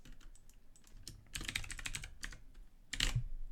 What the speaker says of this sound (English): Can you hear when I type it?